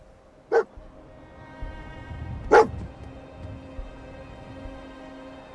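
Two short, sharp dog barks from a companion dog in the video game Fallout 4, spaced about two seconds apart over a low, steady ambient game hum.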